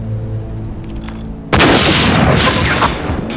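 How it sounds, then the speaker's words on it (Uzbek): An explosive detonation in a dramatic film scene: after a quiet, humming stretch, a sudden loud blast erupts and trails off into a rough, rumbling roar. "yeng portlatqich muvaffaqiyatli bo'ldi"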